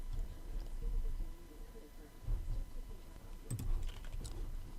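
Soft keystrokes and mouse clicks come in short bursts on a computer keyboard, heard under a nearby voice talking through a data-entry task in a quiet room.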